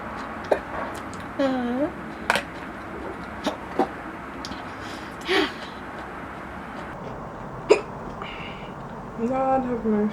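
A person has repeated hiccups after eating spicy food: about eight sharp, close, irregularly spaced hiccups, some with a short vocal squeak, over low room noise.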